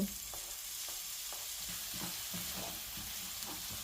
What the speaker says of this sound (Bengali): এবার কড়াইতে অল্প তেল গরম করে কুচনো আদা রসুন, লঙ্কা, পেঁয়াজ ও কুচনো টমেটো হালকা ভেজে নেব